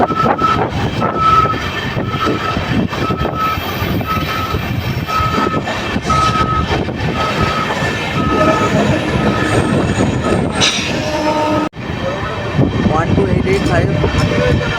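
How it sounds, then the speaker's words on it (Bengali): Aranyak Express, an LHB rake of red coaches hauled by a red WAP4 electric locomotive, runs through stations near Kolaghat and Mecheda; steady loud rumble and rattling of wheels on track with brief metallic squeals, continuous throughout with a short dropout. "আরণ্যক এক্সপ্রেস এখন পার করছে মেছেদা, আর মেছেদার 4 নম্বর থেকে কিন্তু পাস হচ্ছে আমাদের ট্রেন।"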